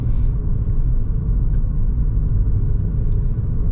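A car pulls away on leaving a town during a driving-test route near Billom. A heavy, steady low engine and road rumble fills the cabin, close and loud, with no talking.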